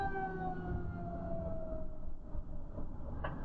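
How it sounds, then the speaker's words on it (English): Tornado warning sirens wail over a small town during an EF3 tornado, a slow falling tone heard from a distance beneath a rumbling wind or engine noise, continuous throughout. "I got sirens in Langdon right now."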